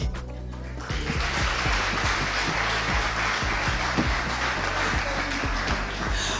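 Audience applauding at the final of a music talent show, a dense, loud sustained wash of many hands clapping with a few sharper individual claps standing out, steady throughout.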